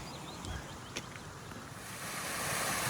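A small stream flows over rocks along a trail in the Scottish Highlands, a soft, steady rushing that grows slightly louder toward the end, with some wind noise and no voices.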